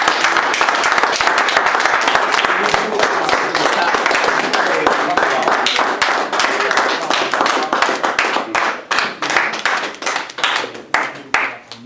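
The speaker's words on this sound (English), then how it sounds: "Let's give them a round of applause." Loud audience applause at a talk on overcoming difficulty, full and sustained at first, then thinning into individual hand claps toward the end.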